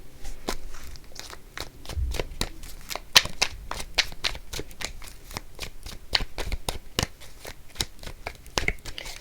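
Cards being shuffled in quick, repeated riffling bursts, each a crisp flutter and snap, close and fairly quiet, with no talking.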